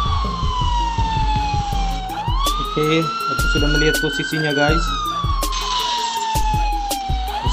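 A police car siren in a gangster city video game wails continuously, loud and close, rising and falling steadily under someone talking, with game engine rumble beneath.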